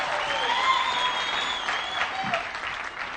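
Audience applause at a live Kenyan television show with reggae performers, an even, sustained wash of clapping from a crowd that holds steady for the whole stretch, with faint tonal sounds running underneath.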